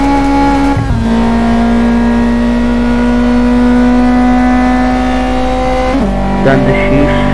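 A Kia Cerato with a six-speed gearbox revs hard in Assetto Corsa. The loud, steady engine drone climbs in pitch, breaks off at each gear change and then climbs again, with no talk over it.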